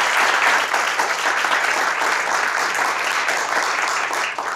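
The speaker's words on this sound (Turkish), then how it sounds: "Alkışlarınızla kendilerine biraz cesaret verelim" Loud, sustained applause from a crowd, dense clapping that holds steady throughout and tapers slightly at the end.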